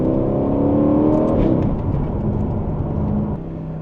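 An Aston Martin supercar engine accelerating hard at the start of a drive, loud and close with a rising rev that breaks as gears change, then settles into a steady drone.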